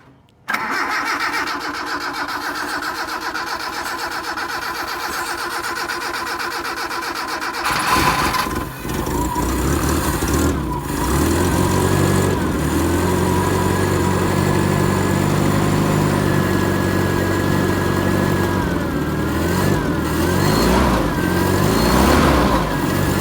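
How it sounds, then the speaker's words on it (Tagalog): A Toyota 4K engine cranks over, catches at about eight seconds and settles into a steady, loud idle that runs on to the end, with no talking. "Idle na siya. Ayan, may idle na siya mga kaibigan."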